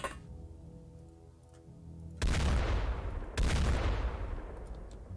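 Rifle snap shots in the video game X-Com Files, played at night: two abrupt, loud shot bursts land about a second apart, each trailing off in a long noisy decay after a quiet, humming stretch.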